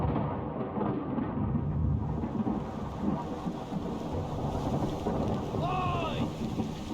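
A steady wash of heavy rain and distant rolling thunder from the seafaring mystery game Return of the Obra Dinn, with a faint creaking or bird-like squeal near the end.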